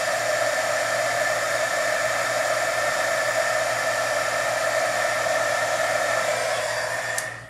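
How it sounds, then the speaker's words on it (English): A heat tool blows continuously over a craft panel to melt material, giving a loud, steady whooshing hiss that holds evenly before cutting off abruptly at the end. "I'm going to hit this a little more with the heat because looks like it didn't quite melt all the way"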